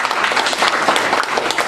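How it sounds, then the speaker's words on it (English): A crowd applauding steadily, dense clapping throughout with no pauses, fairly loud and close. "please give him a round of applause"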